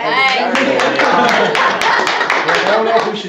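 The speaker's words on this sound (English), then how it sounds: "I don't know if we should clap or" An audience claps in a quick, uneven patter of sharp hand claps at close range, while voices talk over the applause.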